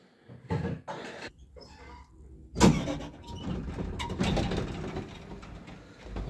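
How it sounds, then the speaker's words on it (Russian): A car is driven and parked outside an apartment entrance at night, with low engine rumble, a few short mechanical bursts and shifting road noise in a quiet street. "Вот сейчас машину припаркую возле подъезда"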